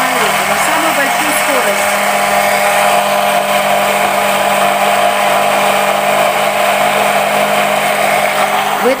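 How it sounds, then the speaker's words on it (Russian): A hand blender whirs loudly and steadily at top speed while making homemade mayonnaise with egg, a continuous buzzing motor noise throughout. "В этот момент вы не должны двигать блендером."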